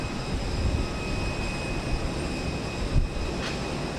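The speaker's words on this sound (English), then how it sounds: "It's flight 2995 to Denver, Colorado, an Airbus A321 with Cubby the Bear on the tail." Airbus A321 jet airliner bound for Denver at Houston Intercontinental airport, giving off a steady, broad engine roar that holds at an even level with a small swell near the end.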